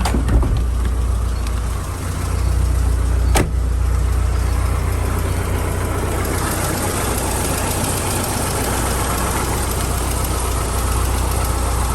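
A 1991 BMW E30 car engine idles with a steady, loud, low rumble that holds evenly for the whole stretch, with no one talking.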